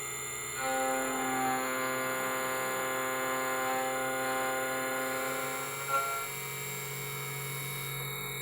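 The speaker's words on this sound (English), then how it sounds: "be sure to have the table moved forward and hit the black button to engage the cutter" Whining motor hum of a KZ-M303 Sidewinder key machine as its cutter engages on an external key, a steady tonal drone that rises at about half a second, holds, then drops back near six seconds.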